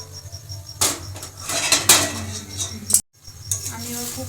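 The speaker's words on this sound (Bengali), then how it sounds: "ভালো করে নেড়ে নেব" A spoon scrapes and clinks against a metal pot as tricolour pulao is stirred once the lid comes off, giving several sharp, close metallic knocks with a brief pause partway through.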